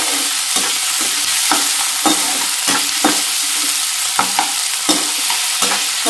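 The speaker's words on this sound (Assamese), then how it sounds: "এতিয়া 2-3 মিনিট মান অকমান হাই ফ্লেমতে এখিনি ভাজি লম" Chopped onion, tomato, ginger, garlic, chili and curry leaves fry on a high flame under a constant loud sizzle, broken by repeated scraping strokes of a spatula stirring the pan.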